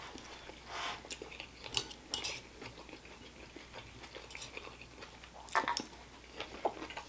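Close, faint mouth sounds of someone chewing a bite of kimchi fried rice, with soft irregular crunches and wet squishes spread across a quiet room, no talking.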